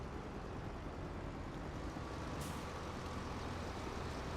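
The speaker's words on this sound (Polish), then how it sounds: "O, tu autobus sobie jedzie." A bus drives past in the farming game Farming Simulator 25, giving a steady, quiet engine and road rumble with a brief air-brake hiss midway.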